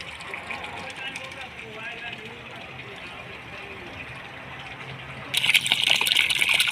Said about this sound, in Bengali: ওনারা গাছের যত্ন নিচ্ছে এবং পানি দিচ্ছে দেখুন